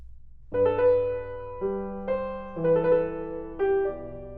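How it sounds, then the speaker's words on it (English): A short melody of plucked or keyboard notes, the first decorated with a quick mordent and a later one with a rapid trill, played alone. "play with the first note with the ornament, the mordent, and then the next note with the trill"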